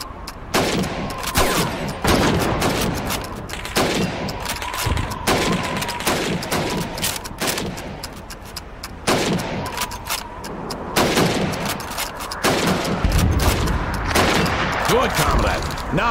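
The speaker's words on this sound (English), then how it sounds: "You have 15 seconds to shoot the helmets." Rapid rifle gunfire from the video game Call of Duty 2 during a timed target-practice drill shooting helmets, with a fast run of loud, close shots mixed with game sound and instructor speech.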